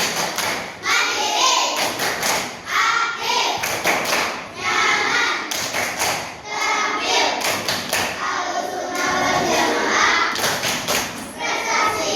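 A group of children in an Indonesian school class claps together in quick patterned bursts, loud and close, chanting along.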